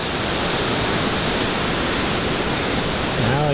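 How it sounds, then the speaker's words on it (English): Ladder Creek Falls at the Gorge Dam in the North Cascades rushes fast, a loud, close, unbroken roar of falling water, with a brief voice near the end. "We are up here at the very top of Ladder Creek Falls at the Gorge Dam."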